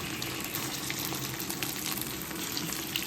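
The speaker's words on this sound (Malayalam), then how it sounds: "ഞാൻ വെള്ളപ്പ ചട്ടിയിലാണ് ചിക്കൻ പൊരിച്ചത്" Chicken pieces fry in oil in an appam pan, giving a steady, fairly quiet, continuous hiss and crackle with no pauses.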